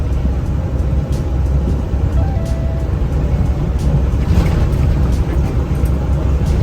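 A small-engined Komatsu PC130-8 excavator labours in sixth gear, its diesel giving a loud, steady, heavy low drone close by with no pauses throughout.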